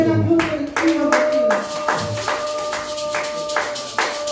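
A church congregation claps in unison with a steady, rhythmic beat, close and loud, while a voice and sustained musical tones carry underneath.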